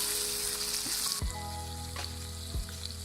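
Green chicken with green chilies sizzles and fries in a pan while being stirred, a steady close crackle with a few scraping strokes of the spoon.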